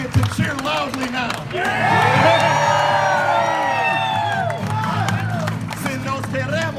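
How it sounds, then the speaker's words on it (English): A large crowd at a free outdoor concert cheers and whoops loudly, a sustained roar of voices with whistles and shouts rising over an opening burst of noise and holding steady to the end. "It's appropriate to cheer loudly now."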